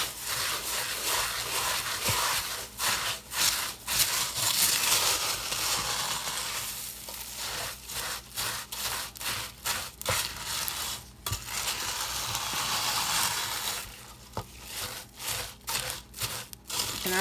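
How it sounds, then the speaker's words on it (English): Silicone spoon mixing and scraping Rice Krispie treats in a pot, with crackly, sticky rubbing and crunching in repeated strokes, close and steady, with no talking. "And now we're going to mix it all in."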